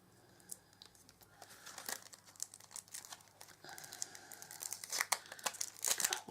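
Plastic packaging on a heavy magnetic item being ripped open by hand, a run of crinkling, tearing rustles that starts softly and grows busier and louder toward the end, close by.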